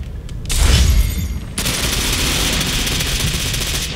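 A sniper rifle shot in the online shooter Ghost Recon Phantoms on the Nukes map, one loud close blast with a booming low tail, followed by steady dense game noise and distant gunfire.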